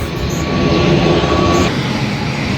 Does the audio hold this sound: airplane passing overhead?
yes